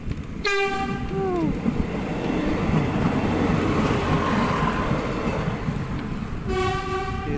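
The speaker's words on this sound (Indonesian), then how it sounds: "itu kereta api dari stasiun Perunggupu ke stasiun Kumaning" A train rumbles past steadily, its horn sounding loudly near the start and again at the end over the clatter of wheels.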